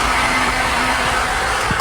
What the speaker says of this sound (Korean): 자, 이렇게 드라이기로 따뜻하게 덮인 다음에